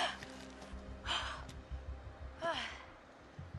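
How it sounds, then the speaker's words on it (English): A person yawns once while gaming at the end of a long day, a breathy drawn-out exhale with a rising vocal sweep, fairly close and soft over quiet background game sound. "Oh, I apologize for yawning."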